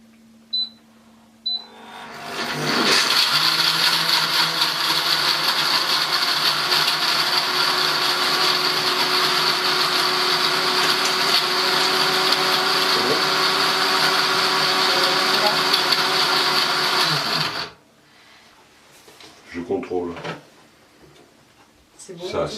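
A kitchen blender mixing and grinding a food preparation, starting abruptly and running as a loud, steady whir for about fifteen seconds before stopping, with faint handling noises and brief sounds around it.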